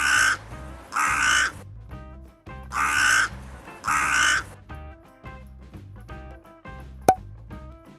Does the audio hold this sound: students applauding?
no